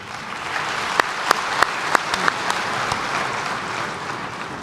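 Scattered applause breaks out in the hall at Rwanda's Umushyikirano national dialogue meeting: a handful of sharp, separate claps over low room murmur, thinning out quickly.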